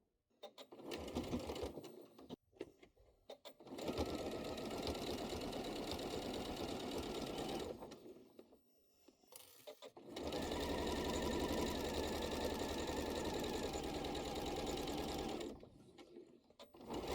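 A sewing machine runs in two long steady bursts while topstitching the edge of a hoodie, a close buzzing whir with short pauses and brief starts between.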